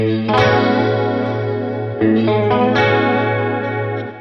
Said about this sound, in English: late 70s chorus pedal on here